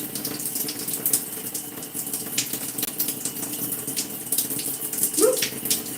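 Steady rushing water runs from a tap while hair is being wetted for washing. It is a continuous, moderately loud hiss with faint splashes and no speech.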